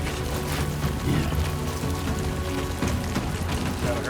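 Steady dense rain falls in Death Stranding 2, a constant loud hiss of drops on surfaces with no talking.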